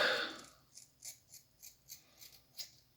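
A brief rustle, then a series of small crisp scissor snips trimming facial hair, about eight in a loose rhythm, close and quiet.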